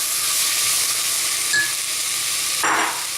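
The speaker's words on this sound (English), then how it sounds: "I've got some green beans that I'm going to add to the mixture as well" Sliced green beans go into a hot pan and sizzle with a steady, close hiss, brief stirring scrapes and a fresh surge of sizzling near the end.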